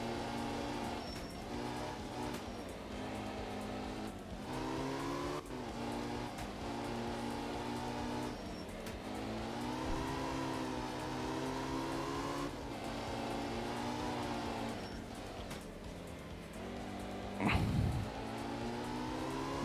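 A sad, worn Porsche 911 rally car in the Art of Rally game drones steadily at moderate volume, with engine tone rising and falling across gear changes and a brief louder burst near the end.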